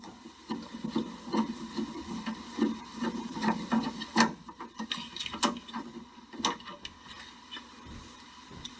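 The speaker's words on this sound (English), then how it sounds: "we'll start by taking out this set screw over here" A screwdriver turning out a set screw on a water heater, quiet irregular scraping and grinding with small metallic clicks and taps, close up and without talk.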